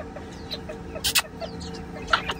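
A rooster gives a few sharp, brief clucks close by against a quiet farmyard background, the short bursts spaced irregularly across a couple of seconds.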